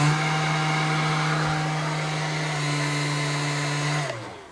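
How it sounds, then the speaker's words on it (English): An oil-cooled fan installed on a 2002 Arctic Cat 300 ATV runs with a steady close-up whir and hum, holding even for about four seconds before spinning down and fading at the end. "If you're wondering what that noise was, it was a fan that we had installed."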